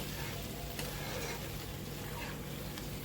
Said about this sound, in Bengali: দুটোকেই একসঙ্গে আমি ভালো করে নাড়িয়ে চাড়িয়ে ভাজবো।